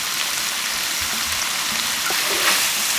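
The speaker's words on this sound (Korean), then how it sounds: "양파가 강불로 볶으셔야 돼요" Sliced onions stir-fry with meat in a pan over high heat, giving a steady, close, dense sizzle and crackle with faint scraping, heard alone.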